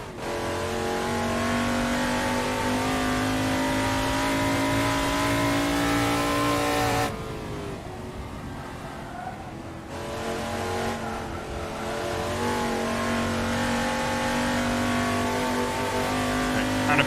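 A classic touring car is driven hard at Goodwood in Assetto Corsa racing, its engine roaring loud and continuous, briefly dropping off and falling quieter mid-run before building back up to full throttle.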